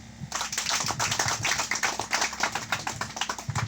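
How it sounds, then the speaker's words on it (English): A church congregation clapping steadily and loudly for several seconds, dense overlapping claps with a brisk rhythm and no talking. "Clap for Jesus."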